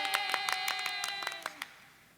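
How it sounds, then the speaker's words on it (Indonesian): Audience at a church Christmas celebration clapping to welcome a Spider-Man costumed performer, sharp irregular claps over a held musical tone, fading out toward the end. "kita sambut dengan tepuk tangan yang meriah"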